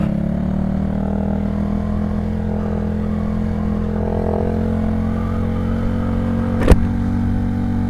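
A 250cc beginner motorcycle idles and revs steadily close by, a continuous buzzing engine drone with a slight swell midway and a sharp click near the end.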